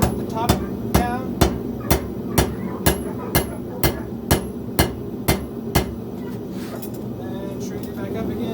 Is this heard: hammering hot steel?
yes